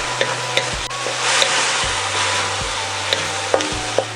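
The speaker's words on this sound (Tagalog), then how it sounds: "Hahaluin po natin." Pancit bihon rice noodles with soy sauce being stirred in a pan, a steady low sizzle with repeated scraping strokes of the utensil at a regular rhythm, close and clear, with no talking.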